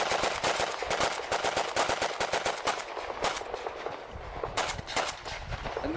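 An MP44 assault rifle firing 7.92 short rounds at a World War II battlefield event, with rapid bursts of sharp, loud shots in quick succession, a brief pause, then another short burst.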